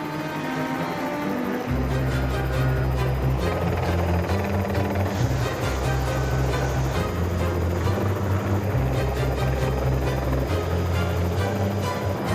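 Helicopter hauling heavy foundation piles up to 7 meters long at a New Zealand building site, its loud rotor thump and engine drone steady and close, rising in strength after the first couple of seconds and holding throughout.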